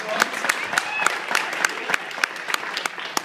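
Applause from an audience at an entrepreneur slam event in Detroit, steady and fairly close, with a sharper rhythmic clap standing out at regular intervals through the short burst.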